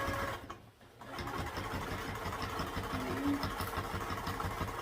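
A sewing machine runs steadily while back stitching fabric, a close, continuous mechanical whir with a rapid needle rhythm after a brief pause near the start; no talking.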